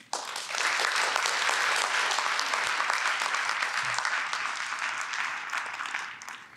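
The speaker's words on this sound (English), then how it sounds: "Now I ask my faculty colleagues who are retiring this year and becoming professors emeriti to listen and be applauded." A college ceremony audience applauds retiring faculty members in a sustained, even round of clapping from many hands that holds steady for several seconds, then tapers off near the end.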